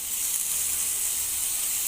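Onions and tomatoes fry in a pan for Tamil egg masala gravy, giving a steady, even sizzling hiss with no breaks throughout.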